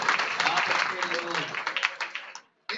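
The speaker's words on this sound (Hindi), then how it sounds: "तो जिस घर में ऐसे संस्कार हो उनके लिए एक बार जोरदार तालियां बजा के" Audience applause at a Hindi poetry recital in Budh Vihar: steady close clapping from a crowd, with voices mixed in, that trails off and stops abruptly near the end.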